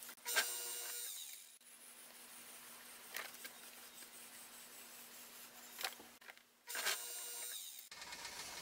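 A metal trimming tool shaves leather-hard clay in long ribbons from an undercut double footring on a huge platter spinning on a pottery wheel, giving a steady, quiet scraping buzz with a faint motor hum and brief louder scrapes.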